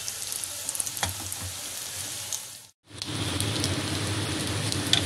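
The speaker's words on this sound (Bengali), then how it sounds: "ময়দার গোলায় ডুবিয়ে তেলের মধ্যে কোপ্তাগুলো ছেড়ে দিলাম। এবার এগুলোকে লাল করে ভেজে নেব।" Rohu fish koftas coated in flour batter deep-frying in hot oil, giving a loud, steady, close sizzle that cuts out briefly midway and then resumes just as strongly.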